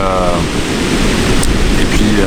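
Ocean surf breaking at a Gold Coast beach in Australia, a steady loud wash of rushing water filling the whole clip, with faint traces of voice at the start and end.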